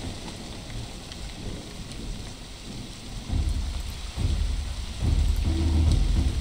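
A tabletop RPG storm ambience of heavy rain and deep thunder rumbles, the thunder swelling louder in stages toward the end over a continuous wash of rainfall.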